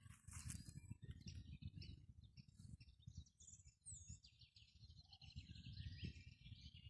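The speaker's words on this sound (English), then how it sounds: "Blackbirds." Blackbirds singing outdoors on a spring evening in a wood carpeted with purple flowers: clear, fluting phrases and chirps at moderate distance over a soft low rumble, with no talk.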